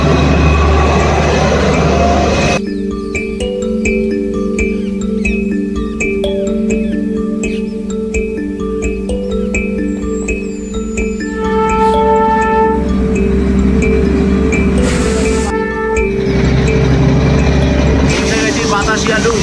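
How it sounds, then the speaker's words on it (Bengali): Darjeeling Himalayan toy train on a hill joy ride near Darjeeling town, with a steady rolling rumble and clatter running throughout, fairly close and loud, with people's voices over it. "টয় ট্রেনে চড়ে হিমালয়ের সৌন্দর্য দেখতে দেখতে যাচ্ছি"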